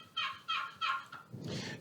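A human voice imitates a female turkey hen's yelp, three raspy rising calls in a steady rhythm followed by a longer, breathier call, close and clear.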